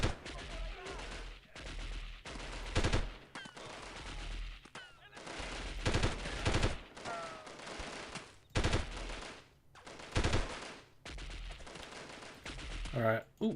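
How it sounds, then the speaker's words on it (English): Gunfire in the 1998 video game Delta Force, repeated loud bursts of rapid automatic fire and single shots separated by short quiet gaps, with a person talking at times. "These guys are starting to wake up and start shooting at me."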